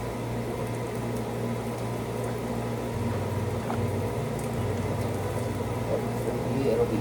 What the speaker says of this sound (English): Let's turn the vent fan on.